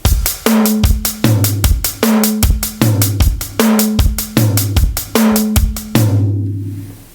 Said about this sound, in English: Variation number 3 is where you swap every other note to a different drum.